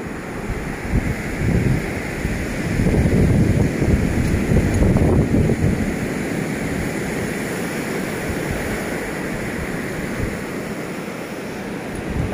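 Rough sea surf rolls in on Lang Van beach, a constant rushing roar that swells around the middle, mixed with gusty wind buffeting the microphone; no one speaks.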